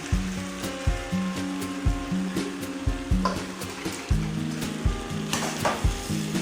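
Fried okra is stirred back into a pan of frying masala for okra palya. Regular scraping strokes repeat roughly every second over a continuous sizzle, close and clear.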